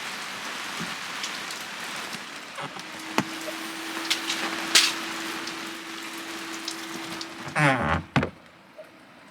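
Light rain patters on a campervan's canopies with scattered drops during a storm in Châlons-en-Champagne, France, a faint steady hum in the background and a few sharper knocks near the end.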